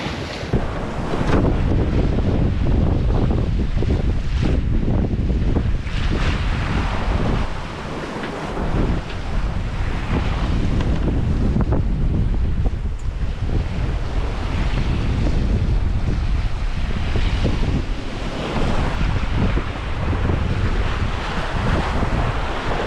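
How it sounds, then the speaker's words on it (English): Strong 30-knot squall wind buffets the microphone continuously while waves surge and crash around a sailboat in the English Channel, loud and unbroken throughout. "when it's this wavy and windy"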